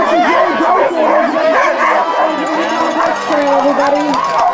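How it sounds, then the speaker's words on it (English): Sled dogs at the start of the 2011 Yukon Quest race bark, yip and howl together in a loud, continuous chorus close by. "I'm not a dog howling expert, but that one was good."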